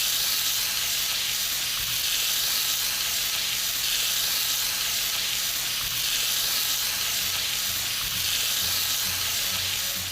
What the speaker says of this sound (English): Grill the scallops until they're lightly browned on each side, lightly brushing them with the marinade.